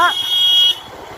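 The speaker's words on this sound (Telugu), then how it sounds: "మళ్ళీ హార్న్ వేస్తున్నావు" A single steady, high-pitched car horn blares for under a second, then cuts off, leaving quieter road noise on the Charmadi Ghat mountain road.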